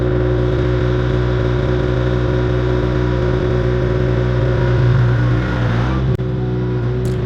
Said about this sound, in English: we're gonna let the tractor finish its thing